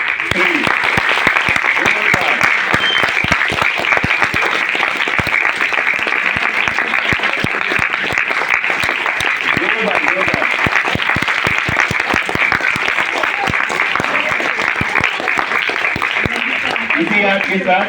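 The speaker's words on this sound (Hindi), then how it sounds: "तो मेरे 3 कहने पे आप जोरदार तालियां बजाएंगे और ये आग जल जाएगा।" An audience at a science magic show claps loudly and continuously in a long, steady wave of applause meant to light a fire, with voices faintly mixed in.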